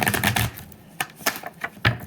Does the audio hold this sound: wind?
no